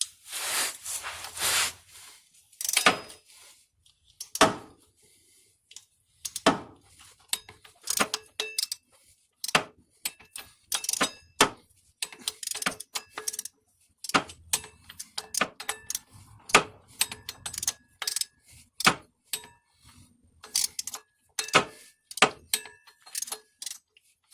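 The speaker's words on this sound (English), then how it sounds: "Alright, now you torque these in a star pattern." Torque wrench tightening the bolts on a 1993 Acura Integra during a 5-speed conversion, working in a star pattern: a long series of sharp metallic clicks in irregular bursts, close and fairly loud, with quiet gaps between bolts.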